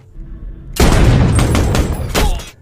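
Sniper gunfire in an action film about elite UAE troops: a sudden loud blast followed by a rumbling roar and a few more sharp cracks over about two seconds.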